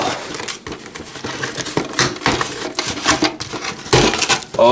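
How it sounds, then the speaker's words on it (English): A cardboard shipping box for a Kricket Keeper is torn open by hand, with rough ripping, crinkling and rustling bursts at close range, irregular and loud, with a bubble-wrap crackle near the end. "now I can just kind of rip it open here"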